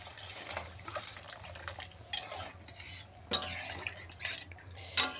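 Water goes into a simmering rohu fish curry made with black cumin paste, with intermittent splashing, stirring scrapes and utensil clinks close by over a low background hum.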